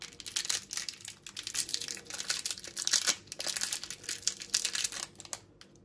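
Fruity Duos snack packets crinkle and tear continuously up close as they are opened, a busy run of sharp plastic crackles with no talking.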